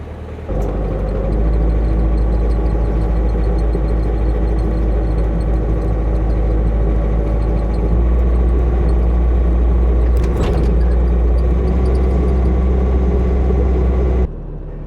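Farm skid steer loader with about 2,500 hours on its engine, cranking over and catching at once, then settling into a loud, steady low diesel idle that runs continuously before cutting off abruptly near the end.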